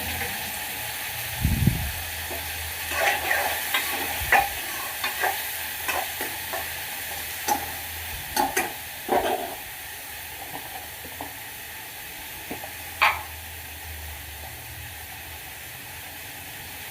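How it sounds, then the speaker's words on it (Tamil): Chopped onions and tomatoes sizzle in a pan for sambar, with a steady frying hiss and repeated clinks and scrapes of a spoon stirring at irregular intervals. A heavier thud comes near the start. "இப்போ நம்ம பொடியாக கட் பண்ணி வச்சுருக்க தக்காளி பழத்தை சேர்த்து நல்லா வதக்கி எடுத்துக்கலாம்."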